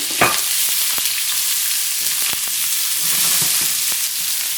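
Vegetables stir-fry with ginger and garlic for green pepper chicken in black bean sauce, a loud steady sizzle broken by sharp spatula scrapes and clacks, with no speech.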